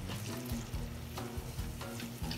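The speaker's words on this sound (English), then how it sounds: "I'm gonna add in our rosé." Rosé wine poured into a hot seafood fondue pan with vegetables releasing liquid, giving a steady close sizzle and bubbling hiss with faint splashing throughout.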